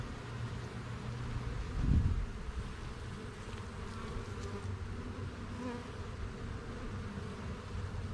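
A dense, steady buzz of many honey bees during an early-spring hive inspection hums close by, with one brief louder bump partway through.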